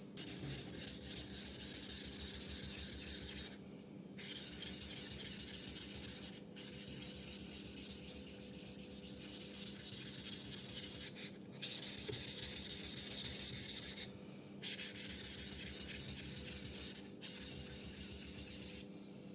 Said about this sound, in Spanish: He lijado un poco el mango.